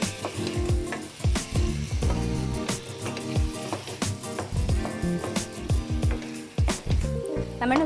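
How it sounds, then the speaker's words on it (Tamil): Boneless chicken, about a quarter kilo, tossed and mixed in a hot pan, with loud continuous sizzling and wet, squishy stirring strokes, close-up, with no voices. "சிக்கன் ஆட் பண்ணிவிட்டு ஒரு நல்ல மிக்ஸ்."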